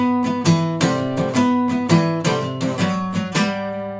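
An acoustic guitar plays the Amazing Grace melody as a solo, with plucked notes ringing clearly in a slow, steady rhythm and no talking.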